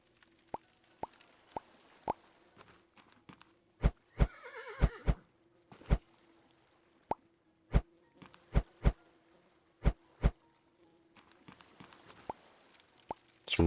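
A horse neighs in the market-trading video game Old Market Simulator: a short, wavering whinny near the middle, set among a steady run of sharp, isolated clicks and plops over faint background music.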